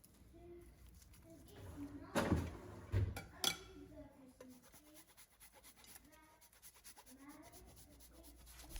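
Big pasta tossed with a meat and vegetable sauce in a pot, with a few clear scraping, clinking spoon-against-pot bursts near the start and softer stirring rubs afterward, fairly quiet overall.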